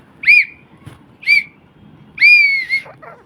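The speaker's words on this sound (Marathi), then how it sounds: "ही शिट्टी वाजवली त्याच्यासाठी." A toy whistle is blown three times, with two short shrill toots followed by a longer sustained blast, loud and close in an otherwise quiet room.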